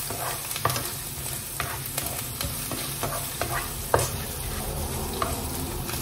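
Salmon with broa, a cornbread, sautéing in a pan, a soft steady sizzle under repeated scraping and stirring taps of a utensil, close and fairly quiet, without voices.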